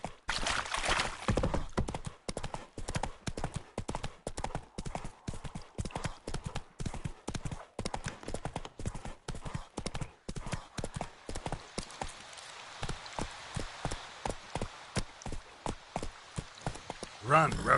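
Roach the horse galloping in The Witcher 3, rapid rhythmic hoofbeats pounding close and steady throughout, softening slightly toward the end with a faint breathy rush of wind.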